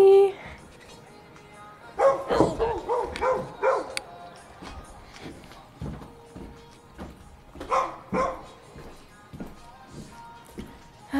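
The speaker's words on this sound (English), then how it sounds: "that dog is cute" A puppy yips and barks in short bursts, several close, sharp calls bunched in a quick run and then scattered singly with quiet gaps between, with no other sound beneath.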